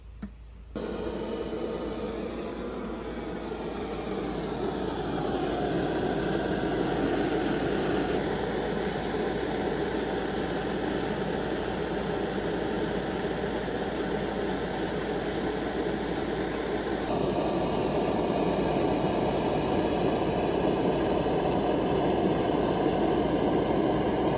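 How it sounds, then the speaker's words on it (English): A portable camping stove burning fuel from a 100-gram canister gives a steady, even hissing roar that holds constant throughout, with no voices. "I'm going to put the stove on top of each one of these cans of fuel, and I'm going to burn off some fuel"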